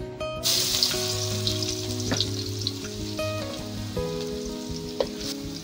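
Garlic sautéing in a pan for a creamy chicken curry, a steady close sizzle with crackling pops and faint clinks of stirring throughout, no voices.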